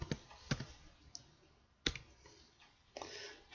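Keys on a computer keyboard click faintly and close by in a few separate taps with pauses between them, then a short cluster near the end.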